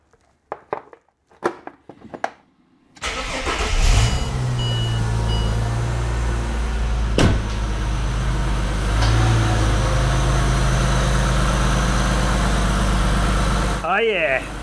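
A turbocharged Ford Barra engine cranks with a few short bursts, then fires and settles into a loud, steady, rough idle close by, briefly revving near the end.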